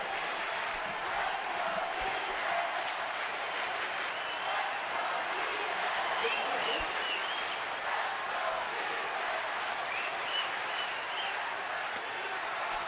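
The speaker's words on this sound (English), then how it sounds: "And this crowd is alive." A large baseball stadium crowd at a San Francisco Giants game in Arizona roars and cheers steadily, a dense, continuous wash of voices with bursts of shouting throughout.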